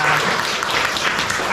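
A church congregation claps together during a Sunday worship service, a dense, steady wash of applause filling the room throughout, with no talk over it.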